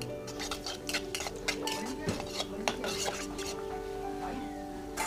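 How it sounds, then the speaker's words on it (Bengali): Black cumin and dried chilies frying in hot mustard oil, a soft steady sizzle under repeated clinks and scrapes of a metal spoon stirring the pan, close by. "এখন এর মধ্যে দিয়ে দিচ্ছি কালো জিরা আর দিচ্ছি শুকনো লঙ্কা। এবার এগুলো একটু হালকা ভেজে নেব।"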